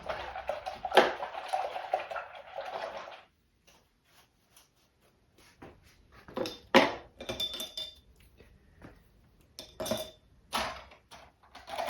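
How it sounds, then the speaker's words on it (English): A paintbrush swished and tapped in a water container during an acrylic painting session, with a sustained sloshing stretch followed by scattered clinks and taps against the jar. "Okay, I'm going to rinse my brush out."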